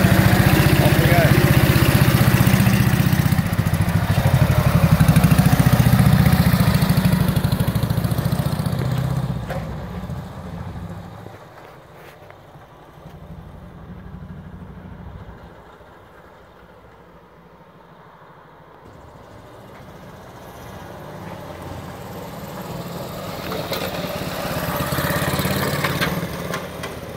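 A 1927 BSA S27 500cc motorcycle engine runs loud and close, then fades as the bike pulls away in first gear and builds again toward the end.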